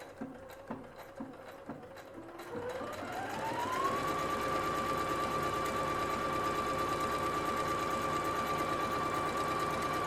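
A Singer SE9185 sewing and embroidery machine first ticks through a few slow stitches, then speeds up into a steady, close whirring hum with a rising motor tone.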